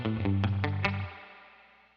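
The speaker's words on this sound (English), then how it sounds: "This here is a built-in reverb, just like on a 65 reverb." A few struck guitar notes ring out through the built-in spring-style reverb of a UAFX Dream 65 amp pedal, the tail washing and decaying smoothly for about a second after the playing stops.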